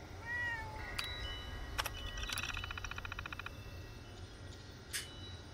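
Cat meows from the video game Fallout 76, several short, high mews alongside clicky game interface sounds and a faint hum, fairly quiet and with no talking.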